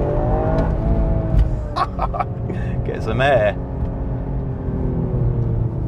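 A 2022 Toyota GR Yaris engine revs up and settles, rising and falling in pitch, with someone talking over it and exclaiming briefly.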